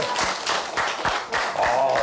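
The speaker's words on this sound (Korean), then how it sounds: "다시 한번 명품 강연을 들으신 선생님이 큰 박수 부탁드리도록 하겠습니다." An audience claps together after a health lecture on immune-boosting herbal remedies, a fairly faint run of overlapping hand claps lasting a couple of seconds with a slight voice underneath.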